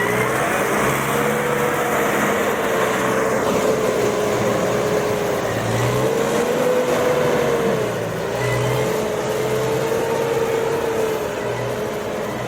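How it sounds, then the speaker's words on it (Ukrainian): New Holland T5 110S tractor ploughing a field, its engine droning steadily at a loud, close, even pitch with slight load swells throughout and no voices. "Хороший трактор New Holland"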